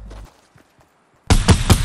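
Fortnite gunfire: a few faint distant pops, then near-silence, then a sudden loud, close burst of rapid shots that runs to the end.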